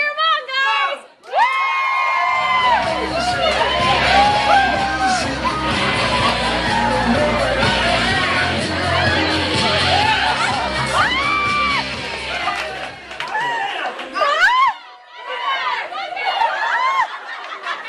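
A group of kids cheers, whoops and laughs as two boys wrestle at a sleepover, with loud, dense shouting that swells for about twelve seconds before easing into scattered voices and squeals.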